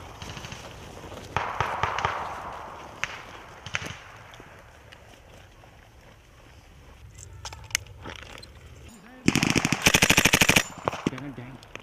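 Bursts of machine gun fire ring out during a soldiers' combat exercise with British, Estonian and Latvian troops, with scattered single shots early and a loud rapid volley near the end, amid occasional shouted voices.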